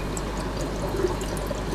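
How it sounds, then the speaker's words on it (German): Water carrying small worms runs through a fine sieve, giving a steady close trickle and splash with occasional drips and no voices. "Und jetzt haben wir hier so ein feines Sieb und da gieße ich das einfach durch."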